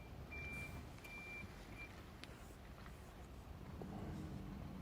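Trucks reverse on a snowy road in Japan, their backup alarm sounding several spaced beeps over a low, steady rumble of idling engines at moderate distance, with a faint clatter and a soft air hiss near the end.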